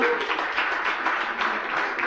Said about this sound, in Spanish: quiero pedir un aplauso a nuestro público